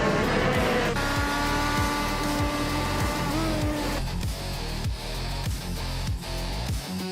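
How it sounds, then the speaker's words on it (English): Chevrolet- and Honda-powered IndyCar race cars in a video game race, engines screaming at high revs with repeated gear-shift drops and a rising and falling whine, loud and continuous with no talking. "The track seems to favor the Chevrolet IndyCar drivers with faster lap times, giving them a slight edge over Honda drivers."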